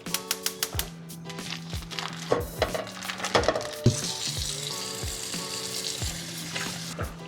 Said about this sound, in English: break up that ground beef, get it evenly across the pan, crank this on high, and get a nice good brown sear on it